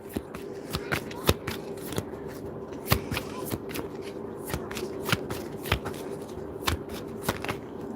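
Tarot cards are shuffled and drawn by hand, producing a steady series of crisp, sharp snaps and flicks at irregular intervals, close and fairly quiet.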